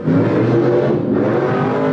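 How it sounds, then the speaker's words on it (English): Race car engine at a Super Mods heat roaring steadily at high revs as the car spins out, a loud continuous motor drone with no break. "Oh, Pete spins the car."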